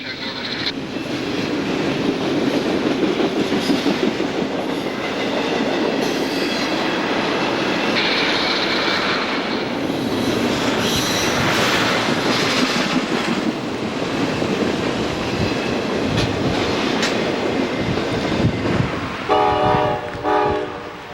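A Norfolk Southern eastbound double-stack freight train rolls past the Altoona station, a long, loud rumble of wagons with rhythmic wheel clatter and squeal, and horn blasts near the end.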